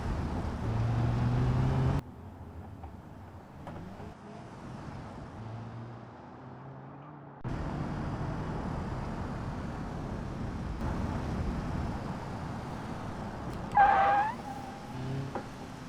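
An Ibishu Covet drives a suspension test in a video game, its engine humming steadily with abrupt cuts between segments and a brief higher whine near the end.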